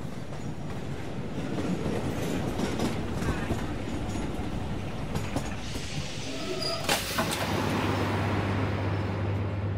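A train pulling into Victoria Station, a steady loud rumble of wheels and carriages with clattering and a faint squeal toward the end, continuous throughout.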